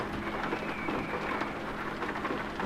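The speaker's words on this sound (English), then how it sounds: "I was just trying to make the sound of the rain" Steady rain patters continuously with a soft, even hiss in the video game Euro Truck Simulator 2, heard alone at moderate volume.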